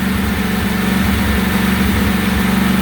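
A Briggs & Stratton replacement engine runs at a steady idle after its throttle was lowered, a close, loud, continuous low chugging drone with an even rhythm throughout.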